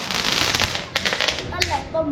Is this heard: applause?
no